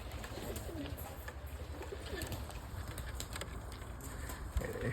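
Pigeons kept free-range coo repeatedly in soft, rolling calls, several birds near at hand, over a steady background hum with a small thump near the end.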